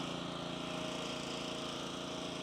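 A hot tack wagon's engine runs steadily at a paving job as its bypass valve is opened, a close, constant droning hum with a fine rhythmic pulse and a faint high whine.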